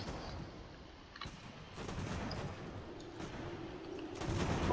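Distant cannon fire and gunfire crackle in the Revolutionary War strategy game Ultimate General: American Revolution, scattered muffled booms and pops over a busy battlefield din that swells toward the end, no voices present.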